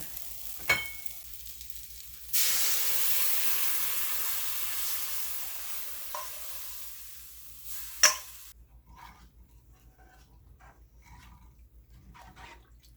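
Liquid is poured into a hot pot for Trini karhee and hits with a loud, hissing sizzle lasting several seconds, then breaks into softer bubbling and occasional stirring clinks.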